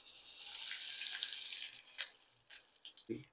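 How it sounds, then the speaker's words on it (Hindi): Hot mustard oil is poured into a spice masala for paneer tikka, a hissing, splashing pour heard close up that tapers off into a few soft drips and clinks. "अब हमारा मस्टर्ड ऑयल गर्म हो गया अब इसे हम इसी मसाले में डाल देंगे"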